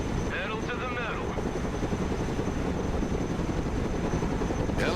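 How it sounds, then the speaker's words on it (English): Broken Arrow video game helicopter, a steady loud rotor-and-engine drone filling the whole span, with a brief voice near the start and a short burst near the end. "Helicopters are impressive machines. Boy, are they noisy."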